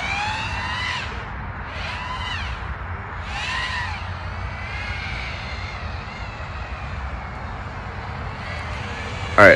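A small drone with a 3D-printed PLA frame whines steadily in flight nearby, its motor pitch rising and falling in swoops as it spins on its yaw axis, with faint background noise throughout.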